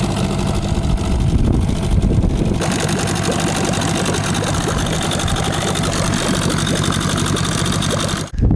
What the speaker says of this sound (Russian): Работает, мотор работает немножечко по-другому.